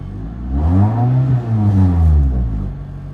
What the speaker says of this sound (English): Let me rev the engine real quick.